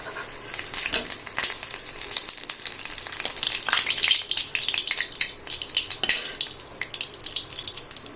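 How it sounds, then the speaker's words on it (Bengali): Pieces of food fry in hot oil in a pan, giving a steady, close crackling sizzle with brief bursts and light stirring scrapes throughout, with no talking. "এবং এ কটা ভেজে আবার তুলে নিলাম।"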